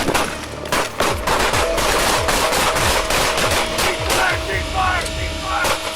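Sustained bursts of rapid gunfire across a parking lot during a police confrontation, loud and close, after a brief quieter start, with the shots rattling on almost without a break.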